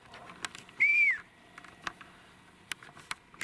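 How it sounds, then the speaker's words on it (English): A person whistles once in a brief rising-then-falling note outdoors, alone over faint background ticks and rustles. "I'm trying to whistle less."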